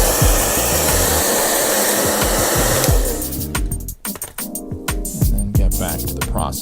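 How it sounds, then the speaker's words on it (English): A hair dryer blows hot air onto a 2018 Volkswagen Golf R headlight, a steady loud rushing whoosh that cuts off partway, followed by handling clatter and light scraping close by. "So I'm going to try a little bit of heat from my blow dryer."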